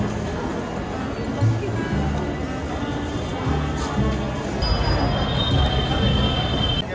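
A packed commuter train runs in India with a steady rumble of wheels on rails and a brief high squeal, while a crowd of passengers murmurs continuously inside the carriage.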